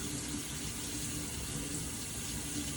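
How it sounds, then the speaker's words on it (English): Lukewarm tap water runs steadily from a faucet into a sink, rinsing dry brine off salmon being made into cold-smoked lox; a continuous, fairly quiet rushing splash with no talk. "we want to rinse off all of that brine, that dry brine"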